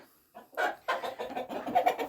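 Dominant-breed chickens cluck in a quick, irregular series of close, throaty calls, with a rooster's voice mixed in among the hens.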